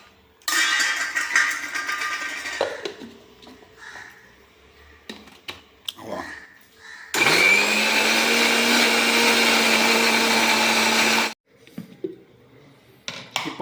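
A mixer grinder whirs loudly grinding coconut, curry leaves and ginger, a first run of a few seconds, then pauses with clattering, then a steady full-power burst of about four seconds, close up.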